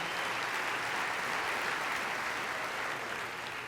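Steady, dense applause from an audience at the 2014 NASCAR Sprint Cup awards ceremony, greeting driver Denny Hamlin. The clapping holds at an even, full level throughout, with no voices on top.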